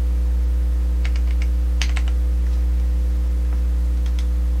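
Typing on a Windows 10 computer keyboard: a few short, close bursts of key clicks over a steady electrical hum, with no talking.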